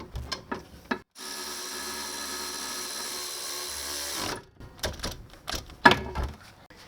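Power tool run on sway bar link nuts of a Ford Laser / Mazda 323 front suspension: a single continuous whirring burst of about three seconds, framed by short clicks and clanks of metal before and after.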